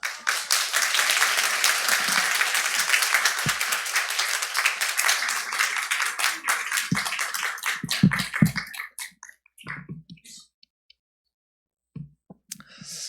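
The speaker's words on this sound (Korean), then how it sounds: "박수로 환영하도록 하겠습니다." A church congregation applauds to welcome the pastor at a special dawn revival service, a loud, dense, sustained round of clapping that thins into scattered last claps and then stops.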